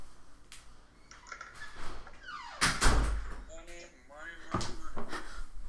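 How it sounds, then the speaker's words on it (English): A door is pushed shut indoors with a single solid thud, set among shuffling movement and room noise while a person talks before and after. "Hold on, I gotta close my door."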